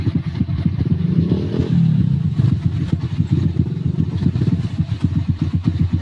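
A trail motorcycle on a mountain trail, struggling as riders push it uphill; its engine chugs and revs in steady low pulses at close range, with clattering throughout.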